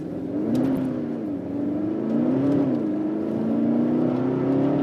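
A Mercedes SLS AMG engine accelerating on a track, a loud steady drone rising and dipping in pitch as revs climb, heard close with no talk over it.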